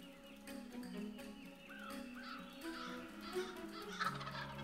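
Several wild turkeys gobble about 50 to 60 yards away, their rattling calls rising over a busy outdoor backdrop of other birds and rustling.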